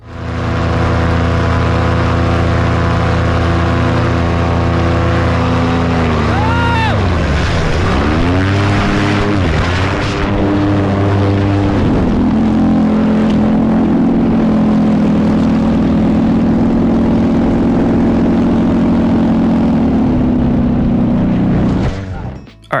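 Two paramotors in Brazil drone loudly with steady propeller hum, one engine's pitch swooping and wavering sharply as the aircraft maneuver close together, then settling into a continuous buzzing tone until an abrupt cutoff.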